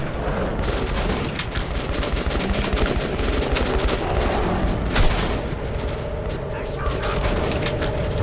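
Rapid gunfire in the underground shooter Metro 2033 Redux, with dense bursts of sharp shots and mechanical clatter over a constant noisy background, while a player talks over it.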